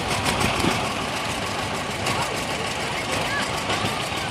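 A John Deere Gator utility vehicle's engine runs steadily at a low idle-like drone as it rolls along in a power parade, under a constant blanket of crowd noise and voices talking nearby.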